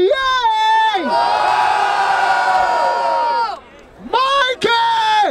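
A crowd at a Brazilian street rap battle in Barueri roars, whoops and shouts in a loud, sustained burst, dips for a moment, then surges again.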